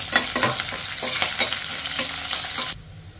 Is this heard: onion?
yes